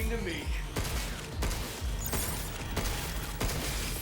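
Projectiles fire at the player in the video game Pragmata, heard as repeated sharp bursts roughly every half second to second over a mechanical game background.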